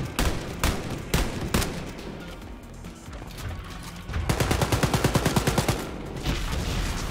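Gunfire in the shooter game Wolfenstein: Youngblood: a few sharp single shots open, then a lull, followed by a long rapid automatic burst and more bursts, loud and close with no talking.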